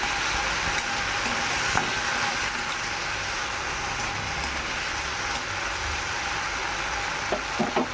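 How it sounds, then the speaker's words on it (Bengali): Mustard and chili paste spices fry in a pan with a steady, close sizzle, plus a few light stirring clicks and taps toward the end, with no talking. "সর্ষে লঙ্কা দিয়ে অল্প করে কষে নেব মশলা"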